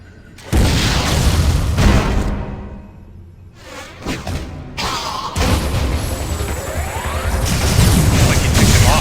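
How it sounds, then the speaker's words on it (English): A missile fired and exploding in Metroid: Other M: a loud booming launch and blast, a short quieter gap with mechanical clanks, then another heavy rumbling burst that builds and sustains. "Why not say hello with a missile?"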